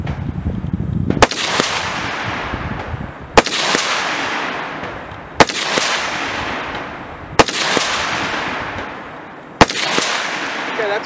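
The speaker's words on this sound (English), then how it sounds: "that's 5 rounds on target from 100 yards on a 2/3 inch or 2/3 IPSC steel in the head zone" Five sharp rifle shots, each followed by a metallic ring from a 2/3 IPSC steel target hit in the head zone at 100 yards, evenly spaced about two seconds apart, loud with long decaying tails.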